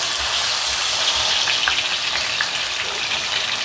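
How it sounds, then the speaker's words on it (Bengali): Pomfret fish fries in hot oil, giving a loud, steady, close-up sizzle with a dense hiss that holds almost unchanged throughout, with no talking. "আমি এইটায় ফ্রাইটা করব তেল দিলাম আমি একটা করে করে এরকম ভাজবি"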